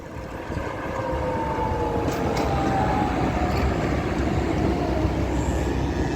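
A tram rolls along a Belgrade street with a steady low rumble and grinding wheel-on-rail whine that slowly shifts pitch, fairly close and continuous, with no one talking.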